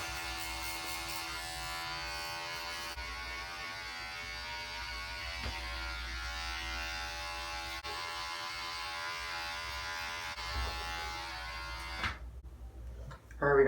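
Electric hair clippers fitted with a guard, set fully closed, buzz steadily and closely while cutting a fade, a constant hum that cuts out near the end.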